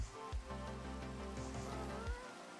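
Steady rain patters across a Minecraft game world, a continuous hiss of falling drops under low tonal music, with a couple of brief soft thumps.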